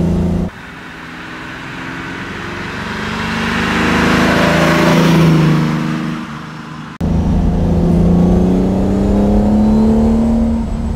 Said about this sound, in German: Ist auch schön drehfreudig, der Motor. dreht schön hoch